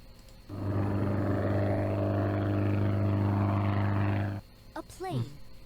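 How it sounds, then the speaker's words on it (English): A propeller plane passes overhead in the I Spy Spooky Mansion video game, a steady droning roar that swells and holds for several seconds, then cuts off abruptly, followed by brief chirpy game sounds. "A plane."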